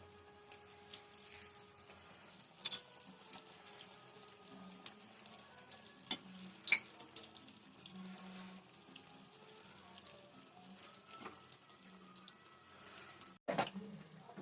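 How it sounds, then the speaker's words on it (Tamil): Wheat sweet dough deep frying in hot oil like puris, a quiet low bubbling sizzle with scattered light clinks and taps, one sharper knock near the end. "நல்லா பூரி மாதிரி பொறிஞ்சு வரும் ரெண்டு பக்கமும் பொன்னிறமாக வேக வச்சு எடுத்துக்கலாம்"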